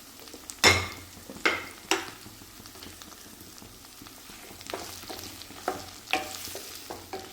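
Sliced onions sautéing with spice powders for an onion pickle: a low frying hiss broken by several sharp spoon-on-pan scrapes and knocks, spaced irregularly and close by.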